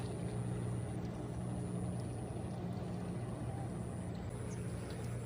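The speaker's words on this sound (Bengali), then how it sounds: "আর এই আর একটা জাহাজ চলে গেছে যাচ্ছে" A ship passes along a river near Kalicharanpur, heard as a steady, low engine drone with a broad wash of water and wind noise that holds evenly throughout, with no talking.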